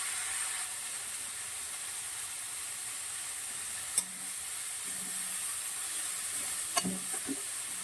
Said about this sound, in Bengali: তাহলে চলো শাকটা ভাজা বসিয়ে দিই, ঠিক আছে?